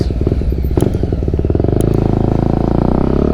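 An NK250 motorcycle fitted with a new Akrapovic exhaust idles and revs close by, its engine pulsing in a steady, throaty rhythm with a few sharp crackles early on before settling into a continuous rumble.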